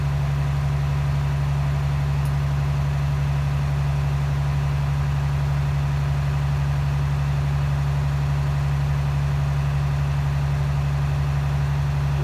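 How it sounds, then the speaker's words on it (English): A truck idles with a steady, even low rumble while its air compressor builds pressure, a continuous hum with no talk over it. "air compressor is doing just fine. My system is building up full potential of air"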